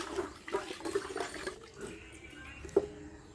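Water sloshing and splashing as cut fish are rinsed in a vessel, with irregular handling splashes and a sharper splash near the end, no talk.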